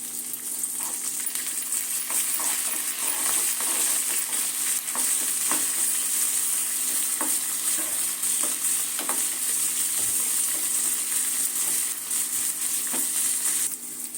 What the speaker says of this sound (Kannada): ಮೆಂತ್ಯ ಸೊಪ್ಪು ಚೆನ್ನಾಗಿ ಈ ಥರ ಬಾಡಿಸ್ಕೊಬೇಕು.